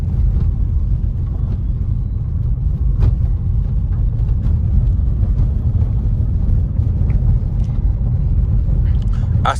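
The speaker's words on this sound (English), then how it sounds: "we're going over some rocks and gravel, so I'll shut up so you guys can hear it" A 2024 Buick Encore GX ST rolls over rocks and gravel, giving a steady low road rumble with scattered crunches and small pops from the stones under the tires.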